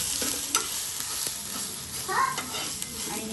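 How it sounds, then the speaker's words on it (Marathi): Ginger-garlic paste frying in oil over a low flame, stirred for bheja fry: a continuous close sizzle with scraping spoon strokes throughout. "आलं लसूण पेस्ट चांगली घालून घ्यायची, परतायची तेलाने."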